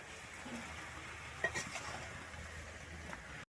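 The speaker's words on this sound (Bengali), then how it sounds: "আমি কিন্তু এখানে আবারও খুব ভালোভাবে এক থেকে দু মিনিটের জন্য এখানে ভেজে নেবো" Chopped tomato and capsicum fry in a pan, giving a soft, steady sizzle with a light stir or clink partway through, faint and continuous for a few seconds.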